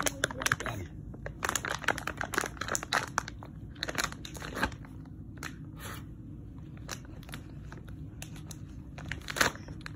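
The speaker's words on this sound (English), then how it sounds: "Well, gosh, I need to rip it." Crinkly plastic packaging is torn and crumpled in short, irregular bursts, close and fairly quiet, with brief pauses between the rips.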